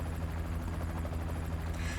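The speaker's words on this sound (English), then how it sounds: "More helicopters, run!" Helicopter rotors thump in the video game FF7 Ever Crisis, a dense steady chopping drone that holds loud and unbroken throughout, with no voices over it.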